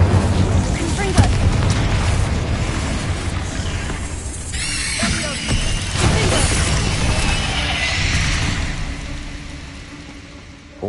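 Spell blasts and explosive booms from the Hogwarts Legacy video game rumble densely and loudly throughout, with crashes and magical bursts overlapping under a person shouting spell names.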